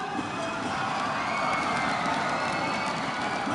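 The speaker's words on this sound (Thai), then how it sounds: "ขอเสียงดังๆให้บัวขาวเลยครับ" A large crowd at a Thai Fight muay thai event cheers for Thai boxer Buakaw Por Pramuk, a dense, steady roar of many voices that stays at a constant level throughout, slightly distant and without distinct words.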